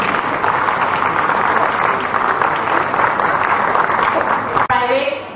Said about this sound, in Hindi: आप लोग तालियां बहुत कंजूसी से बजा रहे हैं।